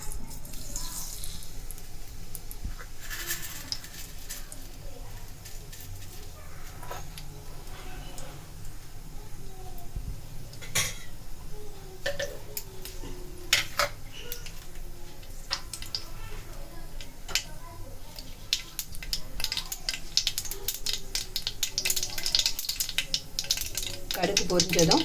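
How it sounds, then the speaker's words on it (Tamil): Mustard seeds crackle and pop in hot oil in a kitchen pan as tempering starts for a buttermilk curry, giving a steady close patter of small ticks while a person talks over it. "கடுகு பொரிஞ்சதும்"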